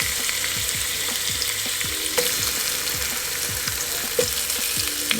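Thinly sliced beets sautéing in a hot pan, a steady bright sizzle with soft stirring clicks and scrapes at irregular intervals, close and alone.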